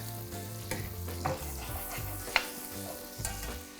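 Asian carp fillet sizzling steadily in a pan while being basted with garlic and thyme, a continuous close frying hiss broken by spoon scrapes and a few sharp clinks, with no talking.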